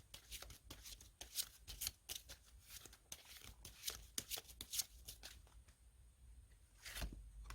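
Tarot cards being shuffled and drawn for a reading, a quiet, close run of rapid riffling flutters and soft slaps, irregular and with no talking.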